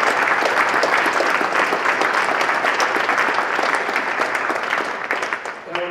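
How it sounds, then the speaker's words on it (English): A forum audience on artificial intelligence and behavioral economics gives sustained applause for event contributors, a dense wash of clapping that thins out and fades toward the end. "I want everybody to give a round of applause for all of the people who have given their time for this event."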